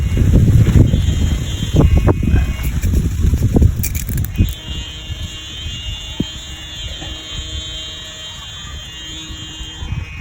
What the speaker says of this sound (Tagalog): malakas kasing hangin.